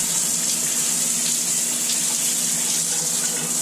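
Shower running in a Home2 by Hilton hotel bathroom in Orlando, a steady full hiss of spraying water that holds even and close without pause, no voices over it.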